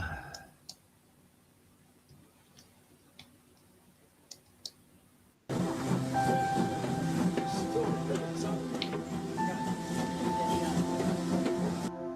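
A quiet room with faint clicks gives way abruptly to a train running along the track, a steady rumbling roar with rattling and occasional squeaks.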